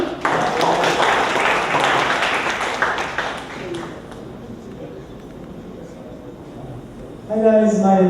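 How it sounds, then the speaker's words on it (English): An audience at a student tech talk event applauds a presenter, scattered clapping strongest at the start and fading over several seconds before a voice begins speaking near the end. "Please give him a round of applause."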